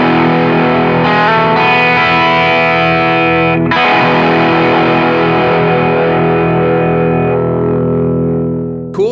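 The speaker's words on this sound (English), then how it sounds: "This is a hard clipping op amp overdrive pedal" An electric guitar plays through a Warm Audio ODD Box hard-clipping op-amp overdrive pedal with the drive at noon. Sustained distorted chords ring out thick and harmonically rich, with one brief chord change partway through, then decay toward the end.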